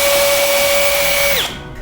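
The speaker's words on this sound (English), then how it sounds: "I am going to take my pocket hole jig, and we are going to drill a pocket hole on the bottom" A power drill bores a pocket hole through wood held in a pocket hole jig while a box truck wall is framed, giving a loud, steady whine that winds down abruptly near the end.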